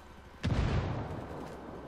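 A grenade blast in Ghost Recon Wildlands: one sudden loud boom that rolls out into a long rumbling tail fading over a second or so, with no voices over it.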